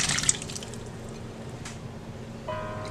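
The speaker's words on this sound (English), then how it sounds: "Add little water." Water poured into a pan of cooking white peas for ragda, a brief liquid splash and trickle near the start that settles into a quiet, steady cooking hiss.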